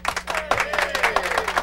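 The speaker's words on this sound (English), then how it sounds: "Let's give him the audience applause" A short burst of audience applause sound effect plays, with scattered claps rising under a talk-show host's voice and a steady hum in the background.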